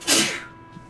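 A single sharp sneeze bursts out close by, loud and brief, then fades into quiet room tone.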